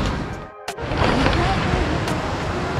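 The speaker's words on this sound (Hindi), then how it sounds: "यहाँ से भी देखिए काफ़ी स्पीड से निकल रहा है पानी बाहर" Fast river water rushes out in a steady, broadband roar with wind buffeting the microphone. A brief gap comes near the start, then the flow continues close and loud.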